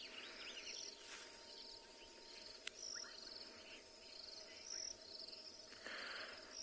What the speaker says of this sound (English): so you can also hear all those frogs in the background